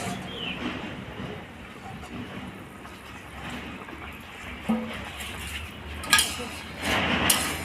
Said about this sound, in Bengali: ঢাকাটাকে খুলে দেবো।